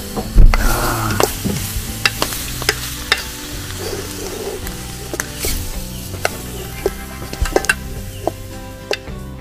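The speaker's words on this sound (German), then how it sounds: "So, und jetzt wird nochmal richtig gerührt." A spoon stirs a megantic currywurst stew in a pot over a wilderness campfire, repeated scraping strokes and clinks against the pot over a low bubbling sizzle, close and clear with no talk.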